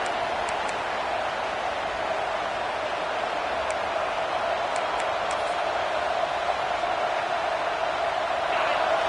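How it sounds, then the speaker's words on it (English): A football stadium crowd roars steadily during a college game against Georgia Tech, a dense, continuous wash of distant cheering and noise with no break. "This crowd trying to make life miserable for this offense."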